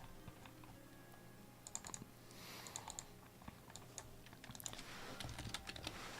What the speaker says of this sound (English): I'm typing vulnerable.